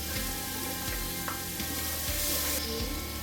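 Garlic and onions fry in a pan for a homemade beef stew, giving a loud, continuous close-up sizzle with faint stirring scrapes throughout.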